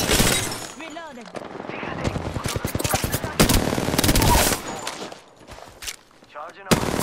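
Rapid bursts of gunfire from weapons in the Apex Legends battle royale game, loud and close, with a sharp shot returning near the end as a voice talks over parts of it.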